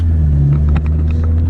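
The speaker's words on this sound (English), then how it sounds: "As you can tell, I'm in the car driving it home now." Honda Civic FK7 driving on the road after a transmission repair, with a loud, steady low engine and road rumble heard from inside the cabin.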